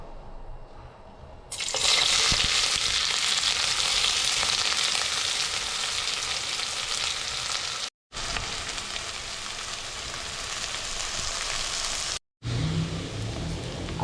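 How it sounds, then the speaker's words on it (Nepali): Onion frying in a little hot oil for a prawn dish, a loud, even sizzle that starts suddenly, runs steadily, then cuts out briefly twice. "After frying the onion"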